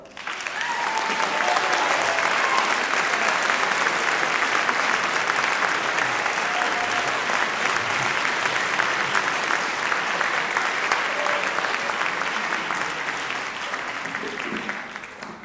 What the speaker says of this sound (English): All right, so now you may clap.